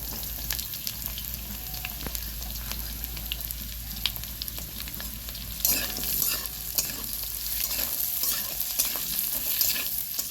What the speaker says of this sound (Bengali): সেই কুচনো পেঁয়াজটা আলুর মধ্যে দিয়ে দিচ্ছি